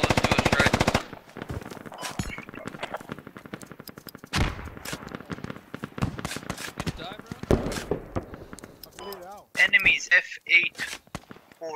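Rapid automatic gunfire from Squad, a military shooter game, opens with a loud sustained burst and then scattered shots and bursts continue throughout, mixed with team voice chat and radio chatter.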